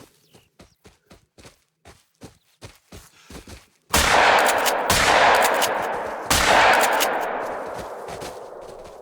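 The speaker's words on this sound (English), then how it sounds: "I'm going to change to the shotgun and get both of them." In a deer hunting video game, two or three loud shotgun blasts ring out with long decaying echoes, after a run of soft rhythmic footsteps.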